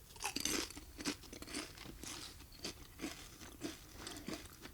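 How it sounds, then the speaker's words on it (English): Potato chips are crunched and chewed right at the microphone, with a steady run of close, crisp bites and munches and no talking. "As I'm chewing right in the mic, that'll sound good."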